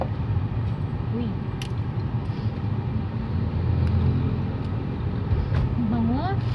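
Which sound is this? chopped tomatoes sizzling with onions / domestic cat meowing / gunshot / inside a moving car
inside a moving car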